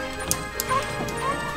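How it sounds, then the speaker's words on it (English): A Nintendog item in Super Smash Bros. Ultimate barks in short yips over busy game noise of hits and clatter, brief and moderately loud. "Oh, dog! Doggy, can you stop?"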